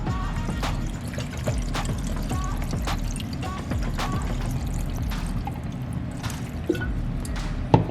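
Coconut water poured over sea moss in a blender, a continuous liquid pour with gurgling, dripping and sloshing for several seconds, fairly quiet and close, without speech.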